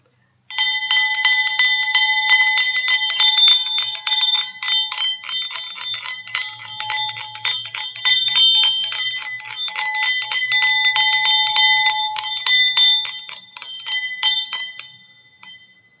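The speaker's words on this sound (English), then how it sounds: "the tone of a bell could basically balance the energies and vibrations around you" A bright bicycle-style bell rung rapidly and continuously for about fifteen seconds, close and loud, its metallic ringing sustained and shimmering before stopping abruptly and fading out.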